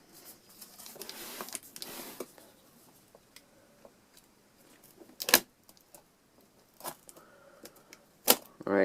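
Samsung Chromebook box packaging being slit open with a knife, heard as several sharp, brief scraping and cutting strokes with quiet pauses between them, close up.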